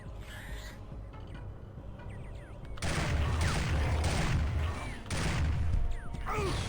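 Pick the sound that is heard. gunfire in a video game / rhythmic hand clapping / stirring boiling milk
gunfire in a video game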